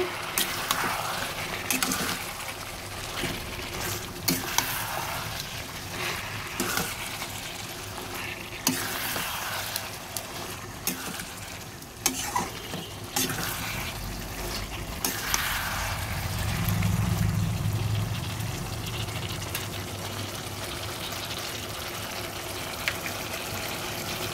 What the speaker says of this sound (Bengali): কিছুটা ভাজা হতে দিচ্ছি।